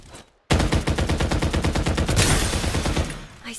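Rapid automatic gunfire from the video game Farlight 84, a loud sustained burst of evenly spaced shots lasting about two and a half seconds, starting abruptly after a brief quiet moment and stopping cleanly.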